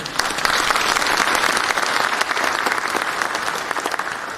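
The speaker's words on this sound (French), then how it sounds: "Applaudissons-les." Loud, dense applause from a conference audience during a speech, a continuous crackle of many clapping hands that stays strong from start to finish with no speech over it.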